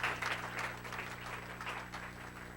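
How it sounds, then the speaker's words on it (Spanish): Church congregation applauding during a sermon, a short burst of crowd clapping heard from a distance, moderately loud and fading slightly. "Dale un aplauso a la gloria de Dios."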